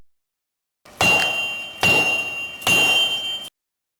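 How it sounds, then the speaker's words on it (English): Three loud, evenly spaced metallic clangs of hammer blows struck on an anvil, each ringing out for nearly a second before the next, close and alone. "the player characters will hear a measured metallic ringing of blows being struck on an anvil"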